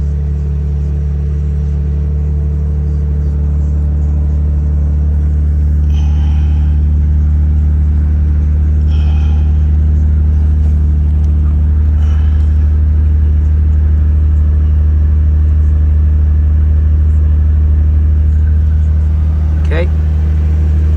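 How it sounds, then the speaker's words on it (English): A 1996 Nissan Skyline GTR R33 idles after a cold start, its engine holding a steady, loud, low rumble with only faint incidental clicks over it. "here's the start, the cold start of the GTR R33"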